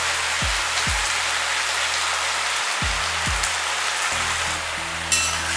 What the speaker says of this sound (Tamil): இது எல்லாமே நல்லா ஒரு வதக்கு வதக்கிக்கலாம்